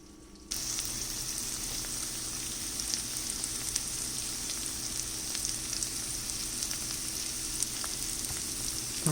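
Onions frying in a pan over a high flame give a steady, close sizzle with faint crackles scattered throughout, starting abruptly and continuing without a break, with no voices.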